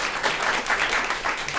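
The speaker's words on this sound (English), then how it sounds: "Go ahead and applaud." Studio audience at a live public radio talk show breaking into dense, steady applause, loud and close, filling the whole moment with no voices over it.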